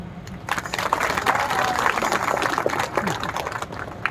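A crowd at a district political conference in India gives a short burst of clapping, uneven and moderately loud, with murmuring voices underneath.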